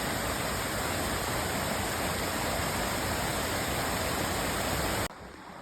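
A steady, loud rush of a waterfall near Yakima roars without pause, then cuts off abruptly near the end.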